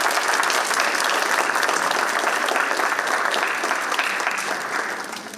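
An audience at a Guru Nanak anniversary event at the US Capitol gives a panel of scholars a long, full round of applause, dense and steady before it begins to fade toward the end.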